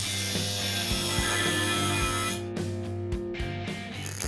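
A power tool cuts an angle into steel roll bar tubing for a Mazda project car, giving a loud, sustained grinding whine with rhythmic pulses that breaks into choppier bursts toward the end.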